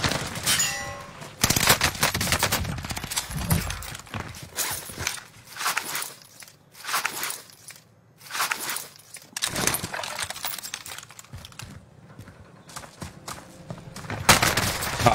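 Weapon fire in an online shooter video game comes in bursts of rapid automatic shots, loud and close, separated by short quieter gaps, with occasional footsteps between volleys.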